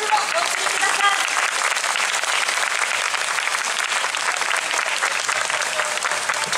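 Sustained applause from an audience follows a girls' high school wind band performance at an outdoor Ginza street festival concert, dense steady clapping throughout with faint voices mixed in.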